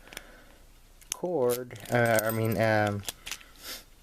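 A bunch of large lock keys jangles and clinks up close, with metallic rattles scattered across the moment while someone talks over them.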